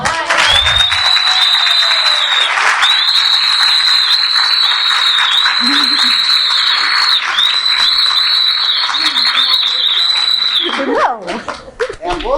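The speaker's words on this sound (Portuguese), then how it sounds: "queria que vocês dessem uma salva de palmas" An audience applauds at a forum or conference session for several seconds. The clapping is loud and steady, with a high whistling tone running through it, then stops abruptly and gives way to scattered noise.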